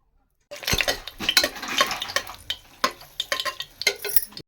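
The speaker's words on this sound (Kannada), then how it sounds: "ನೋಡಿ ಈ ಥರ ರೋಸ್ಟ್ ಮಾಡ್ಕೋಬೇಕು" Whole spices such as cinnamon, cloves and cardamom roasted in a pan for egg biryani, with a spoon stirring and scraping against the metal in close, repeated clatters over a light sizzle.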